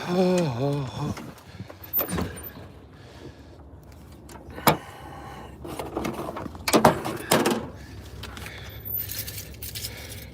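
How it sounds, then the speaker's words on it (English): Mail being taken out of a mailbox, with metallic clanks, thuds and a sharp snap of a door or lid spread over several seconds, mixed with car noise and a voice talking at the start. "that sound was me getting some mail out of the"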